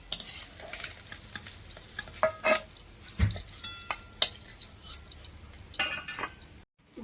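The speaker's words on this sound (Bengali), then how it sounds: "বাকি মাছগুলোও ভেজে নিচ্ছি।" Fish fry in a pan with a low sizzle, broken by scattered clinks and scrapes of a utensil against the pan, fairly close and without talk.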